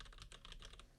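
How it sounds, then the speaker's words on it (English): A loud retro mechanical computer keyboard clatters with quick, close key clicks in an uneven typing rhythm, alone and without voices. "we won't be typing on that during our podcast, so you guys don't have to hear the click, click, click, click, click, click, click"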